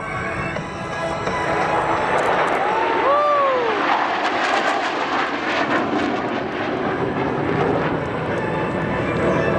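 Four Thunderbird jets in the Diamond formation roll together in close formation over an air show crowd, their engine roar a loud steady wash throughout with brief voice-like tones in the middle.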